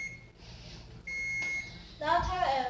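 A kitchen timer sounds two clear electronic beeps in a home kitchen, the second longer, followed by clattering and other kitchen noise.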